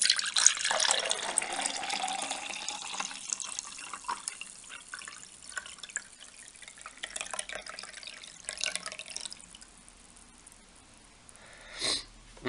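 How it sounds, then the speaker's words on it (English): MRE drink mix poured out, a soft trickling and splashing of liquid that is quiet and close, tapering away, with a brief louder swish near the end. "Let's pour this out and have a taste."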